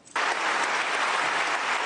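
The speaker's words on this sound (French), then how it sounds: "Des propos longuement applaudis dans les hémicycles" Sustained applause in the European Parliament chamber, a dense wall of clapping that starts abruptly and stays loud and even throughout, with no voices.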